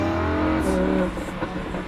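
A Lamborghini Huracan accelerates hard with the pedal down, its engine note rising and growling close by for a brief burst, with a voice faintly over it.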